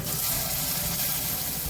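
Onion and tomato sauté in a pan with ginger-garlic paste, turmeric and chilli for ragda, giving a continuous, even, close sizzle with no talking.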